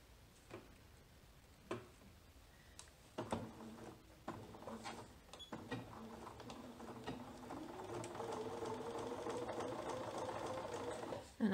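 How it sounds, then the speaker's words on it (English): Sewing machine stitching lightweight stretch fabric, starting with a few slow, separate clicks and thumps before settling into a steady mechanical whir that runs at a slow, even pace. "And we're ready to sew."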